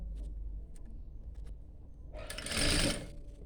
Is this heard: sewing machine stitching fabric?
yes